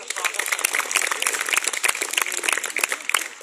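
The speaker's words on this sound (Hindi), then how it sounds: "मैं निवेदन करता हूं, एक बार आपकी तालियों का आदेश चाहता हूं।" An audience at a poetry recital in a hostel hall bursts into dense, sustained applause, many hands clapping close and steady for a few seconds with no pause.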